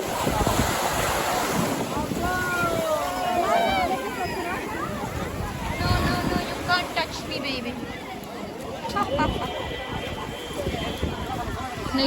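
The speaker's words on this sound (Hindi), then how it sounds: "ये है कि लहरें काफ़ी बढ़ गई" Ocean surf at Dhanushkodi near Rameshwaram rolls and crashes steadily onto the shore in the evening, with wind buffeting the microphone and people talking and calling out over the continuous roar.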